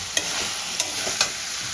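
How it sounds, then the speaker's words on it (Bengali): Potato, cauliflower and boiled peas sautéing with spices in a pan, a continuous bright sizzle broken by three or four quick scraping stirs, close with no talk. "এবার আমি আলু আর ফুলকপিটা দিয়ে মশলার সঙ্গে খুব ভালো করে কষিয়ে নেব"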